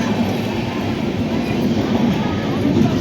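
The Bhagalpur Lokmanya Tilak Express at Barahiya station gives a loud, steady rumble of rolling carriages passing close by, continuous throughout with no break.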